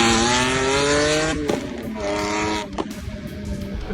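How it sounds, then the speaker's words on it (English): Eccentrica restomod of a Lamborghini Diablo, a retro-futuristic kit-car build, with its engine close by and loud: a steady high harmonic scream that drops and surges again, ending in rougher rumbling pops. "And then you press start and it screams."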